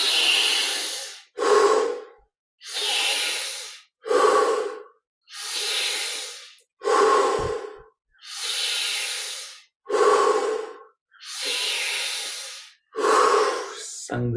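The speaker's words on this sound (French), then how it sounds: "pour les 10 dernières, on augmente l'intensité de la respiration" Intense deep breathing exercise during guided Kriya Yoga meditation: loud, close, forceful breaths alternating long hissing inhales and sharper exhales in a steady rhythm, about ten cycles with short silent gaps, no talking.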